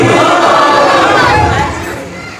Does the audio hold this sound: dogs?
no